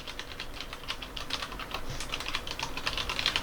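Soft, steady typing on a mechanical keyboard, quick light keystrokes in an even flow, close and fairly quiet with no talking.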